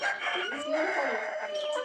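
Chickens cluck and call continuously at close range, a busy run of tonal squawks with no pauses, steady in loudness and free of speech.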